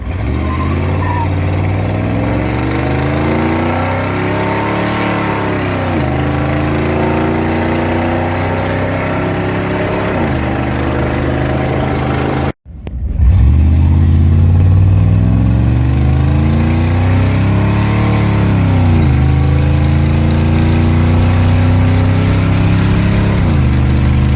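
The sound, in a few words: Chevrolet Silverado truck engine running with Flowtech headers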